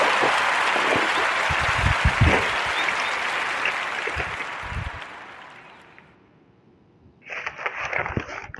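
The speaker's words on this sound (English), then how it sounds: "give a warm narrative round of applause for Freddie and Lisa Thomas McMillan of Drexel and Honeybees" Podcast audience clapping in a dense round of applause that thins and dies away to near silence, then a brief burst of sound and light noise returns near the end.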